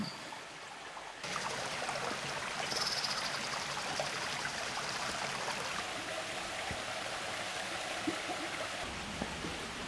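A forest waterfall stream rushes steadily, a broad constant hiss, with faint chirps of frogs or insects mixed in.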